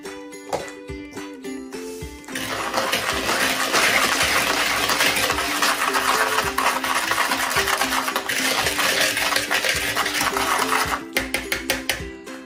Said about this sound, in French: on va mélanger les deux sucres ensemble, la cassonade et le sucre blanc